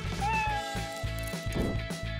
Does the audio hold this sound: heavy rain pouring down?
no